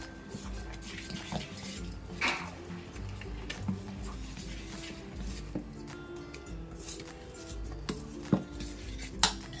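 Fermented ragi idli batter being mixed in a metal vessel, with soft wet stirring, scattered clinks of a utensil against the pot, and a dog whimpering faintly in the background.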